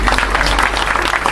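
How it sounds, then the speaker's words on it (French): An audience at an anniversary reception applauds a violin and guitar duo with a short, loud, dense burst of clapping. "On peut encore les applaudir."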